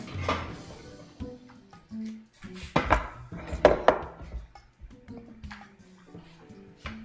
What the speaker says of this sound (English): Stir it up one more time